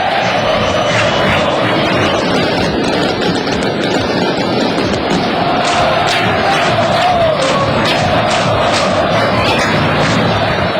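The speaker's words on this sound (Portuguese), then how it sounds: "Na entrada dos times em campo, a festa das duas torcidas foi de tirar o fôlego." Football supporters of two sides roar and chant in a stadium as the teams walk onto the pitch, a loud, dense and continuous crowd din with rising cheers throughout.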